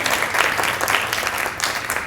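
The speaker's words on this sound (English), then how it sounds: "Applause for Karen." A writers conference audience breaks into brisk, dense applause, a short, steady burst of many hands clapping close by.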